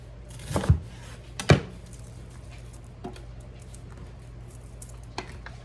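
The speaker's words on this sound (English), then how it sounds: "I'm going to slice some onion" An onion is sliced with a knife on a board, giving a few separate knocks: two firmer cuts close together, then two lighter ones spaced out over quiet room hiss.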